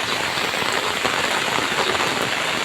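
Light rain patters on a surface outdoors on a cold day, a steady soft hiss without pauses and no voices.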